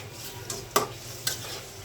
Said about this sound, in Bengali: মশলাটা কষে গেছে, এখন আমি মাছের মাথাটা দিয়ে দিলাম। একটু নাড়াচাড়া করে ঢেকে দেব।